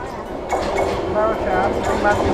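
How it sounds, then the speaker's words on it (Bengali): A Barasat local train pulls into Bisharpara station with a steady, loud rumble of wheels and carriages and thin metallic squeals over it, while people talk nearby on the platform. "তো আধা ঘন্টা স্টেশনে ওয়েট করার পর এখন চলে এসেছে ট্রেন"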